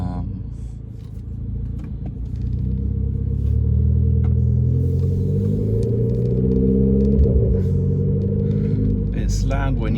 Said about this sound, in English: So, like driving in traffic, it's a very quiet car.